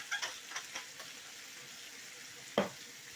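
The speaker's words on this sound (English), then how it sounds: "the sage now is warming up in the pan too" Sage leaves warm in a pan with a faint, steady sizzle. Soft utensil taps land near the start and a sharper clink comes late.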